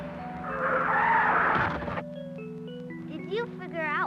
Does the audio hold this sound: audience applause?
no